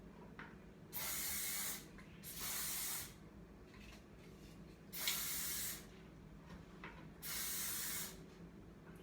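Four separate close bursts of aerosol hair spray hissing onto perm-rolled curls, each held for roughly a second, with quiet room tone and small handling noises in the gaps.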